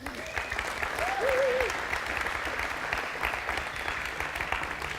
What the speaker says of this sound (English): I would really love a round of applause for a resident guest, Kfir Adi Bloch